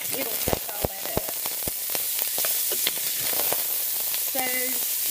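Beef and vegetables for a vegetable beef soup cook in a pot with a continuous hissing sizzle, scattered sharp pops and crackles near the start, and a brief tonal clink near the end.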